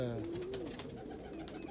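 Birds calling outdoors in cold, snowy weather, a dove-like cooing call up close that slides in pitch over a steady hiss of background noise.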